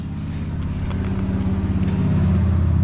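An old car engine idles low and steady nearby, a throbbing rumble with an even pulsing beat that grows slightly louder toward the end.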